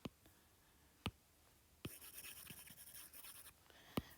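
Pen or chalk writing out a math problem by hand: isolated taps, then a steady stretch of scratchy strokes, then another tap, close and quiet with no talking.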